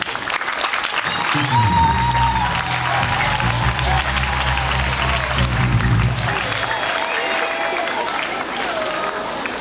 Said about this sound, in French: Nous allons applaudir pour Monseigneur